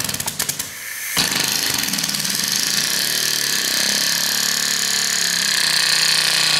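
A Modella CO2 engine on a Styrofoam model Messerschmitt Bf 109E buzzes in a rapid, close, high-pitched whir after a few sputtering pops, holding steady throughout.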